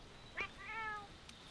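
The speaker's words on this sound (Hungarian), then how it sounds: "Ide jössz a macskához." A cat meows in a video game, one short chirp and then a longer drawn-out meow, faint and isolated against a quiet background.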